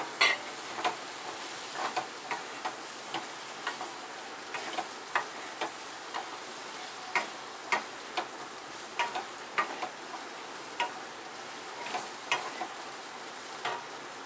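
Potatoes stirred in hot spiced oil with chili powder for a spicy Maharashtrian potato dish, a steady sizzle broken by regular scraping and clinks of a spoon against the pan, close and distinct.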